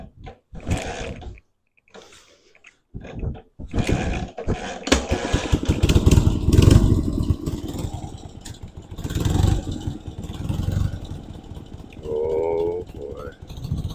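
A BMW R60/2 motorcycle with rebuilt carbs cranks and fires up, its engine running unevenly with a throbbing, sputtering rumble under speech.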